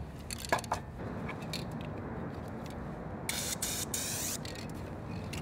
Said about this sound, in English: Now it looks like spray paint.